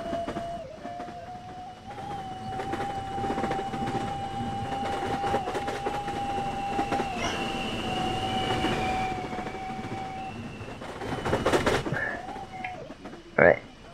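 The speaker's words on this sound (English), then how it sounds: "this is an express train" Express subway train on an elevated line in the Joes Subway Trials game, with an MTA R42 car, a steady rumble with a sustained whine that shifts in pitch, rattles and a sharp clunk near the end, while people talk.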